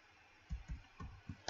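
Computer keyboard keys pressed during coding, including Tab and a Ctrl+Enter combination: a handful of soft, separate clicks spaced irregularly, close and fairly quiet with no talking.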